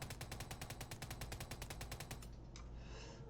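Rapid automatic gunfire in a video game rattles in a fast, even burst of shots, then stops, leaving a short echoing tail.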